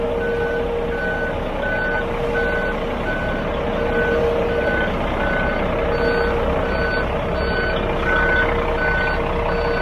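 A truck's reversing alarm beeps steadily in a loud, regular pattern while it backs out of a building through a fully open door, with a constant engine rumble underneath.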